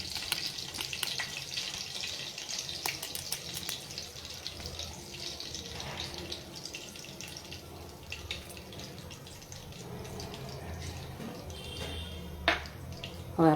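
Ghee heating in a pan on a home kitchen stove, giving a steady soft sizzle and crackle at moderate level, with occasional small pops and clatters and no talking.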